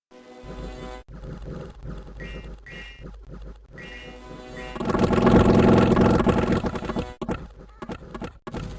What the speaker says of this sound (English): that is the sound of victory when you have 150 crossbows fire